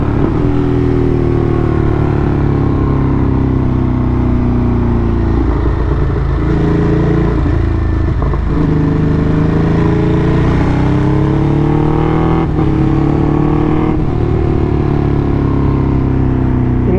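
A Ducati Multistrada RS motorcycle rides along a muddy rural road with its engine droning loud and close. The pitch rises and falls as it shifts and revs, with wind rumble and occasional clatter.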